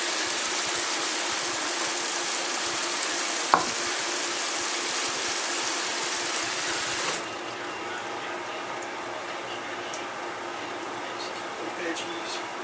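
Oxtail stew gets stirred in a cooking pot, giving a steady wash of bubbling, simmering noise with a single sharp knock partway through, after which the sound softens and thins.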